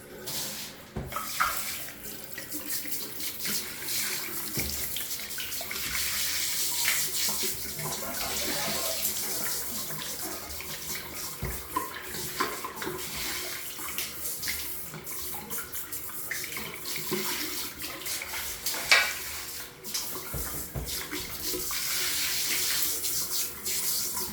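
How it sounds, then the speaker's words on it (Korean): Running tap water rinses a bathroom sink, a continuous broad splashing and hissing flow that shifts as it hits the basin, close and steady throughout, with brief spoken remarks over it. "자, 이제 물로 한번 세척해서 확인해 보겠습니다."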